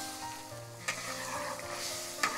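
Asam pedas spice paste is poured and stirred into hot water in a pot, giving a low, continuous bubbling hiss with two sharp scraping knocks, close by and with no voices.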